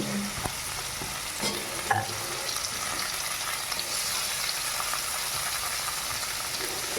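Chopped tomatoes go into a hot frying pan, setting off a steady low sizzle with faint stirring clatter and scraping, heard close and without talk.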